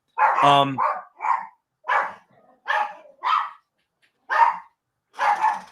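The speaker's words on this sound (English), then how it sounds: "So, you guys can hear the dogs." Several dogs bark in short separate bursts at night, fairly close and spaced with silent gaps, some sharp yips among deeper barks, with no talk over them.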